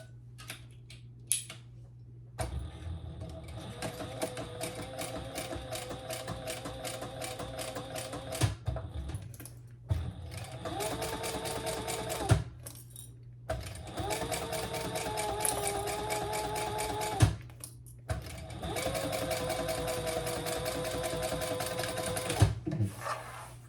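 A sewing machine runs in three long bursts of rapid, even stitching while top-stitching a garment, with short pauses between runs and a steady low hum underneath throughout.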